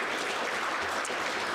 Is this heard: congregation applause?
yes